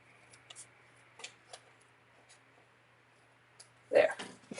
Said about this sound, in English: And then I'm just going to trim this off.